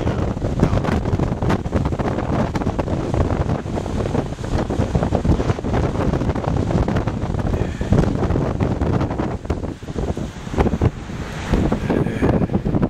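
Strong coastal wind on the Trans-Catalina Trail, with whitecaps on the sea, roars steadily and buffets the microphone in a loud, continuous rumble with occasional gusts.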